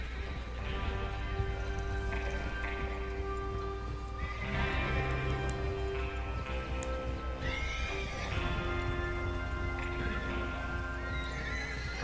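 Horses whinny and neigh repeatedly in Red Dead Redemption 2 over steady clip-clopping hooves and a sustained musical backdrop, several loud close calls spread across the stretch.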